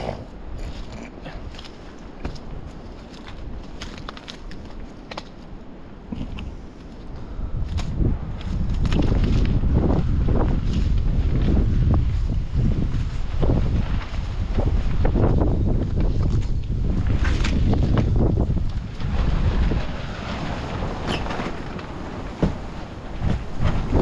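Strong wind in a storm buffets the microphone in loud, rumbling gusts that build midway and stay heavy, with faint rustling beneath, in a village.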